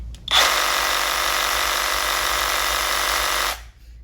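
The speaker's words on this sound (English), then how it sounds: "On the Sawzall" Hercules reciprocating saw running on a DeWalt 20V battery through an adapter, a steady loud motor buzz for about three seconds that starts and stops abruptly, with no voices.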